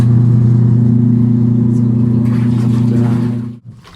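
An American Home AWT-60016B washing machine, just fitted with a new capacitor, runs its motor faster with a strong, steady low hum and faint rattling on top, then cuts off abruptly near the end.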